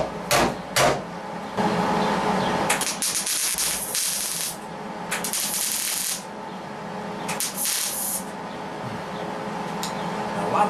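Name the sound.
tack welding a 1960-66 Chevy truck front fender lip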